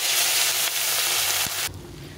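Fish sizzles loudly as it fries in hot oil in a pan. The hiss is steady and close for about two seconds, then drops off sharply.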